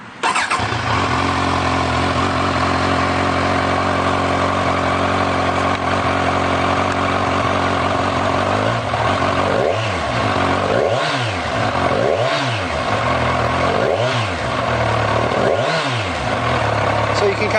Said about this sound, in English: let's push the button and we'll crank it up and take a look at that tachometer